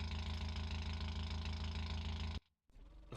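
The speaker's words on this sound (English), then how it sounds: "the engine sounds a bit crap" A car engine in BeamNG drones steadily at a rough, rattly idle with a pulsing, buzzy tone, then cuts out abruptly into near silence before sputtering back to life.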